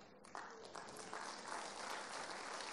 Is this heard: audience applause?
yes